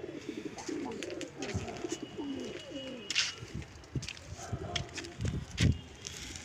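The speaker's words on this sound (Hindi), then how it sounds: "सब घर के कबूतर हैं।" Domestic pigeons kept at a house in Allahabad coo in low, rolling throaty bursts nearby, several birds overlapping with soft rustling and a few sharper sounds.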